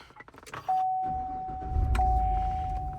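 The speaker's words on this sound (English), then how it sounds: "Fires right up." A 2015 Cadillac Escalade Luxury 4x4 SUV starts after some jangling keys and clicks, then its engine settles into a low, steady idle under a faint constant chime.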